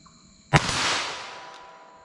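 A single sharp .22 Magnum rimfire gunshot from Remington Premier ammunition, fired outdoors at a target, with a loud close crack followed by a long fading echo.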